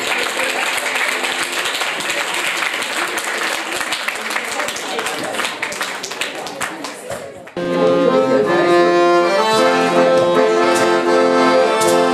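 Audience applause at a Lithuanian Independence Day commemoration held at a Kaunas special school: dense, steady clapping fills the room for about seven seconds, then stops abruptly as music begins.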